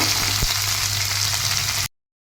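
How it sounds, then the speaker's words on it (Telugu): Cumin, mustard seeds and urad dal sizzling in hot oil, a dense steady close crackle with a small knock, cutting off abruptly into silence near the end. "ఆయిల్ వేడెక్కిన తర్వాత ఒక హాఫ్ స్పూన్ జీలకర్ర ఒక హాఫ్ స్పూన్ ఆవాలు కొంచెం మినప్పప్పు వేసుకొని"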